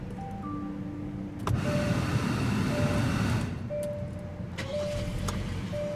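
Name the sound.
2017 Hyundai Sonata 2.4 liter 4-cylinder engine starting and idling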